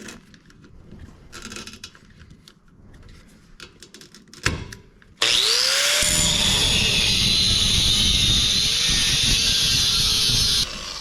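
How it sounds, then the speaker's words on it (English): Angle grinder cutting the exhaust pipe under a 1962 Impala: some clanks and handling noise, then a loud continuous high whine of the disc biting metal for about five seconds before easing off, close up, no talking. "It's kind of hard to get the grinder all the way in there."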